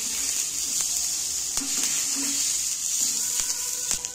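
Green chillies and tomatoes frying in a pan for a chicken momo sauce, a steady close hissing sizzle with occasional soft pops and stirring ticks, with no talking.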